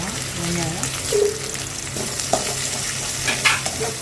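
Onions sizzle and crackle in hot oil with curry leaves while a spoon stirs and scrapes the pan during preparation of a village-style country chicken curry, a close, continuous frying hiss with occasional clinks.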